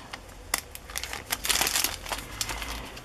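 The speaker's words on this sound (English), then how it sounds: "Listen to that crinkly sound" Crinkly paper pages of an old shopping list crinkle and rustle close by in a quiet room, a few sharp bursts of crackling handling over about three seconds.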